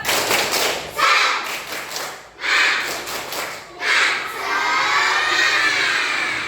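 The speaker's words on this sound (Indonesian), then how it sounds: "Tepuk semangat." Schoolchildren in a classroom perform a spirit clap chant, loud rhythmic group clapping mixed with shouted chanting in bursts, ending in a sustained cheer and shout from the whole class.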